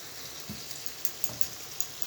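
Tomatoes cook in a pan with eggs, a soft low sizzle with a few light taps and clicks, faint and close, with no talking.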